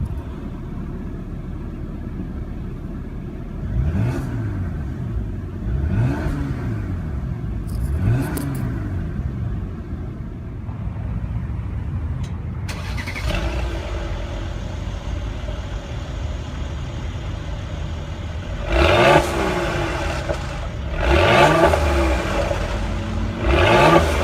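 A 2016 Mercedes-Benz GLE450 AMG in sport mode starts up and revs, its engine note sweeping up and down in several swells over a steady idle, then rising to louder, fuller revs near the end. No one speaks.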